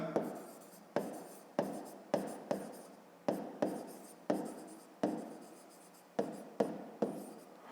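Pen or chalk writing out a fifth-grade math problem by hand, a quick series of close scratchy strokes with short taps starting each one, steady and rhythmic with no voices.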